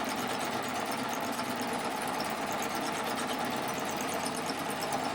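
A serger sewing machine runs flat out at top speed, making a dense, steady, buzzing mechanical whir that stays even and close throughout, with no talking.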